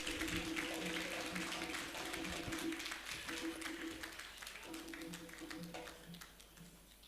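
Audience applause welcoming guests to the high table at a formal gathering, a broad, steady clapping from a crowd that runs throughout and fades slightly toward the end, with some background chatter underneath.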